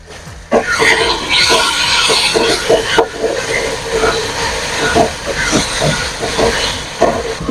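Loud, close steam hisses continuously from a pressure cooker of rajma, with scattered clicks and knocks beneath the rushing noise.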